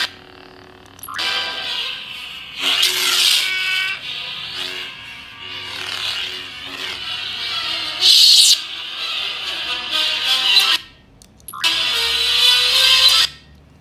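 A Darth Vader lightsaber sound board playing a song from its speaker, bursts of bright tinny music starting and stopping in several sections with brief pauses between.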